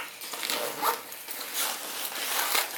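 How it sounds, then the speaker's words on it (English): A small zipper on a backpack's front compartment pulled open in a few short rasping strokes, close by and fairly quiet, with no talking. "So it's just a little zipper."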